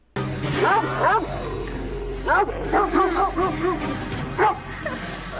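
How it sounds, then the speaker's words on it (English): Several dogs bark, yip and howl in overlapping bursts over a steady low hum, with a wild, yowling quality to some calls, from the Goosebumps TV episode "The Barking Ghost". "3 minutes of this episode is just dogs barking like this"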